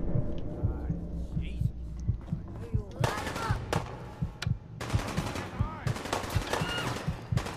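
Gunfire in the video game Fallout 4: bursts of shots and impacts crackle through a battle, with a steady low rhythmic thumping underneath and louder volleys from midway on, while a voice talks over it.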